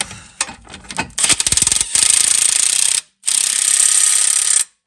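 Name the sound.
wrench and socket snugging down Honda Civic axle bolts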